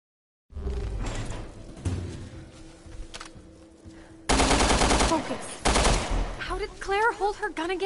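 Gunfire in Resident Evil Revelations 2: loud bursts of rapid shots and single blasts, with a voice calling out near the end.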